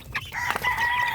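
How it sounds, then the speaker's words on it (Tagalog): Young chicks from a backyard brooder peep and cluck in short, close, chirping calls, a brief burst of small fowl sounds with no voices. "ito na yung ating mga sisiw mula sa brooder"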